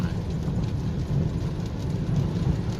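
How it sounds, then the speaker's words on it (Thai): Steady rain hissing without letup, a dense wash of drops that stays even throughout, with no voices. "ฝนก็ยัง ลิ่นลิ่นอยู่"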